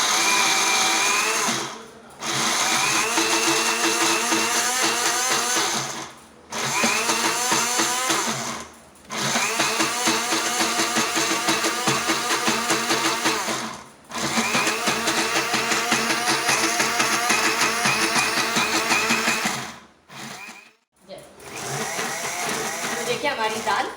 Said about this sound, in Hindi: तो आए हम इसे ग्राइंड करते हैं।